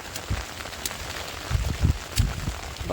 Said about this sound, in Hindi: दोस्तों बारिश तेज़ हो गई, मेरी पीठ भीग रही है